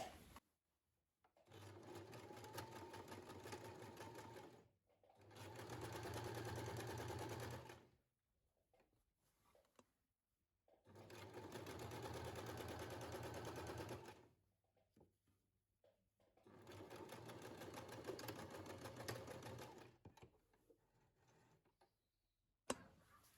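Domestic sewing machine running straight stitches along a fitted elastic sheet, four bursts of rapid mechanical whirring of several seconds each, separated by quiet pauses, heard close up.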